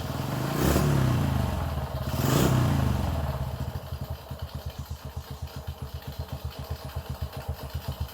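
A Honda Wave 100 motorcycle engine revs twice near the start, then settles into a steady, close idle with a regular rapid pulsing putter, no talk.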